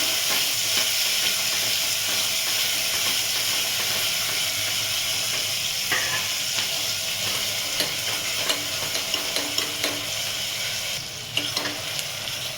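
Onion and tomato sizzle steadily in a hot pan for a Maharashtrian soybean curry, a continuous close frying hiss broken by scraping stirs and small ticks of a spoon against the metal.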